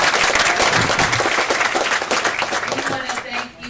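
Audience clapping at a D.C. event for a mayor, loud at first and thinning toward the end, with a voice beginning to speak over it.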